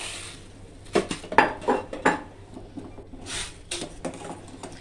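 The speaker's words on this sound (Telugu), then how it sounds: "దీంట్లోని కార్న్ అనేవి వేసేసుకున్నాను" Sweet corn kernels go into a metal cooking pot, giving a cluster of close clattering and rattling hits, then a few softer clinks as the pot settles.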